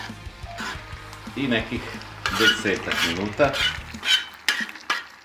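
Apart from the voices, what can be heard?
kačamak sizzling in a pan with meat and onion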